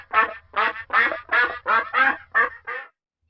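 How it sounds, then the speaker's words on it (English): A duck quacks eight times in a quick, even series, loud and close, then falls silent. "The duck says."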